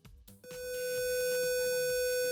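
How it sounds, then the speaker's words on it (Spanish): After a few soft clicks, a proximity-sensing circuit's electronic alarm switches on and holds a loud, steady, high-pitched tone. "Y está la alarma sonora y el LED azul encendido."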